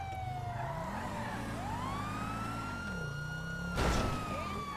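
A police car siren in the video game GTA wails loudly and steadily, its pitch sweeping up and down over engine noise, with a brief crash-like burst near the end.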